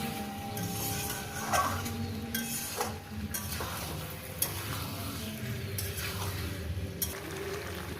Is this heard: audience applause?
no